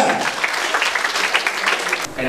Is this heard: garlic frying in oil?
no